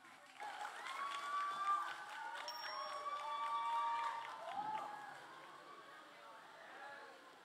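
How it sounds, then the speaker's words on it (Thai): An audience at a northern Thai folk music band contest (salo-sueng ensembles) claps for the second band, moderate applause with cheering and crowd chatter, some faint tonal sounds over it, fading toward the end. "ขอเสียงปรบมือกับทีมที่2ของเรากับทีมพันเพลงครับ"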